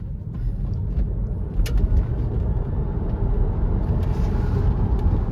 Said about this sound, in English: this will kind of show you a little bit about the acceleration that can come from that